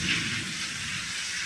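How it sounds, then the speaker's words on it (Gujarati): Heavy night rain pours as water overflows from a full storage tank, a dense, steady wash of splashing and rushing water heard close and loud. "ટાંકો ફૂલ ભરાઈ ગયો. પાણી છલકાઈને આવ્યું છે."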